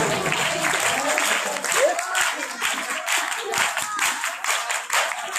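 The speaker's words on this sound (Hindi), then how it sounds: "भरता वाला की टीचर के लिए भी जोरदार तालियां बजानी है आपने।" An audience applauds teachers at an outreach event in Daska, a dense, continuous crowd clapping with a voice talking over it.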